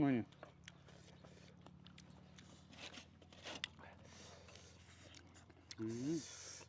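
Raw food is chewed close to the microphone, with soft wet mouth sounds and bites that come and go, and a voice speaking briefly at the start and the end.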